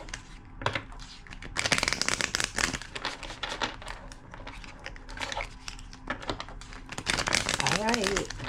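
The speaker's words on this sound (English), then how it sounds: "Two more shuffles." A deck of tarot cards is shuffled by hand in repeated crisp riffles, flutters and soft slaps, close and fairly loud, with a voice briefly heard near the end.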